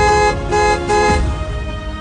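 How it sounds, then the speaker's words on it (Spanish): A car horn honks insistently in repeated blasts, a loud sustained tone that pulses in short bursts, close and dominant with no speech over it. "El conductor, sorprendido y a la vez asustado, tocó insistentemente el claxon para que el hombre se quitara del camino."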